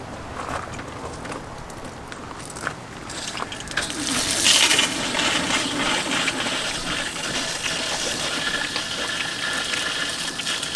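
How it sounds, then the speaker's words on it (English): City water turned back on into RV plumbing for a Truma AquaGo water heater, giving a rushing gush that builds and then continues steadily for several seconds. "we're going to go ahead and turn this back on to city water"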